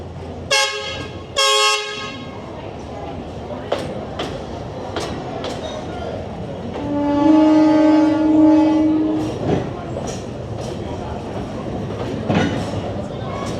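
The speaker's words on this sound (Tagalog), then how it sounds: "Nakasakay na kami sa wooden train." The wooden tourist train at Alishan, Taiwan, sounds two loud horn blasts, followed by rumbling and clattering along the rails, a long squealing tone in the middle, and some chatter from passengers.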